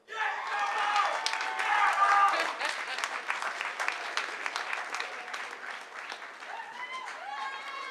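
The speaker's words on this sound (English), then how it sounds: "they're still cheering" A graduation ceremony audience applauds and cheers for a graduate, a loud swell of clapping with shouts that peaks and then tapers under voices.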